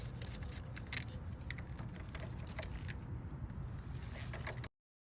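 Small 8mm ratchet working the four oil filter cover bolts on a Honda CRF250L dirt bike, a steady run of close metallic clicking and rattling with brief sharper ticks, stopping abruptly near the end.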